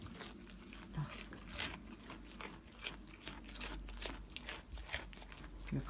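A young goat chews and crunches food near at hand, a steady run of soft crisp bites and grinding, faint and without talk.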